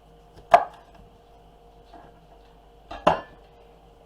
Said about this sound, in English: we're gonna start with jalapenos, and we're just kind of doing a rough chop, definitely not taking out the seeds